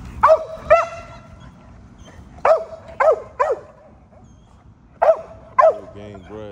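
Pit bull dogs bark in sharp, loud bursts, mostly single and paired barks spaced a second or two apart, close by, with faint background noise between them.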